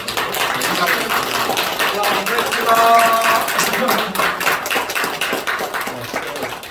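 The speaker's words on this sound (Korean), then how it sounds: "우리 전사님 인사하실 때 여러분 보내는 환송의 박수 하겠습니다" Church congregation clapping a farewell during a Sunday service, a sustained, fairly loud wash of many hands applauding together for several seconds, with a voice briefly heard over it.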